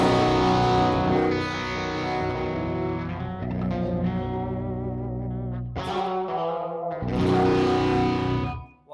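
A 27-inch Balaguer Select Custom Espada baritone guitar with Bare Knuckle pickups, run through a Quad Cortex, plays heavily distorted chords with effects, sustained riffs broken by two short gaps, loud and up front.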